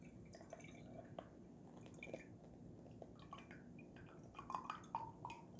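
Aquafaba drains from an opened can of chickpeas with its lid left in, a soft trickle with faint drips and splashes, fairly quiet and steady throughout.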